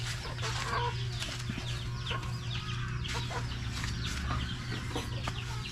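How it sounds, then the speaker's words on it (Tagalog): Hybrid chickens clucking in a steady, busy chorus close by, with a constant low hum of background noise and no one speaking. "mga manok na hybrid ni Tatang"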